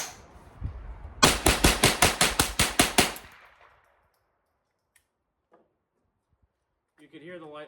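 A minimalist .22LR survival rifle fires light-load ammunition in a rapid string of about nine sharp, evenly spaced cracks, followed by silence and a brief voice at the end.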